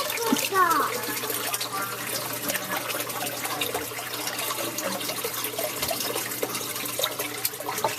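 Steady splashing, trickling water from an aquarium filter outlet runs continuously under a low hum, with a brief gurgle near the start.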